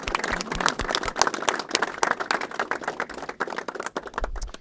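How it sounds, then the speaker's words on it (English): A round of applause at a New York Assembly Republican press event, many hands clapping in a brisk, dense patter at moderate distance, sustained throughout and tapering slightly at the end. "So let's please give them a round of applause."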